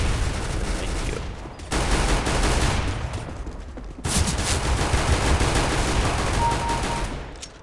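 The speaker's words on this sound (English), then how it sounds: "Rapid fire, pistoling." Rapid pistol gunfire in Counter-Strike: Global Offensive arms race mode rings out in dense, loud bursts that run almost without a break, with a short lull near the middle and no talking.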